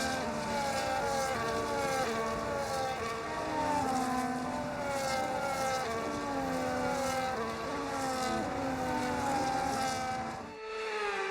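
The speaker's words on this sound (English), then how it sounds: "The formation lap gets underway and every driver will be looking to settle in for the race ahead" A pack of F1 race cars from the game F1 25 roars around on a formation lap at Bahrain, several engine notes rising and falling in overlapping whines, loud and continuous, with a brief dip near the end.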